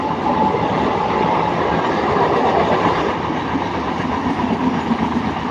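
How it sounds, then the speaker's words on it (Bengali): A Sealdah–Lalgola passenger train rumbles past nearby with a continuous, loud roar of wheels and carriages and a faint clickety-clack, steady for the whole stretch. "শিয়ালদা লালগোলা প্যাসেঞ্জার ঢুকছে দেখতে পাচ্ছেন"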